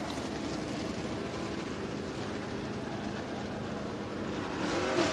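Dirt track race cars at Duck River Raceway Park roar steadily through hot laps, a dense continuous engine drone that swells slightly near the end, with no talk over it.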